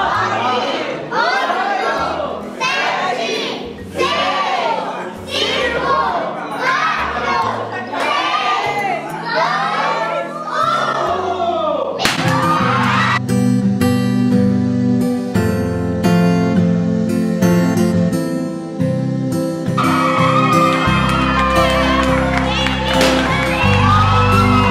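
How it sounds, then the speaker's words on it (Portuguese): A crowd of children and adults shouts and cheers at a gender reveal party countdown, loud overlapping whoops and yelling that swell into sustained cheering, with music-like tones joining in the second half. "vocês dão um gritão se é menino ou menina"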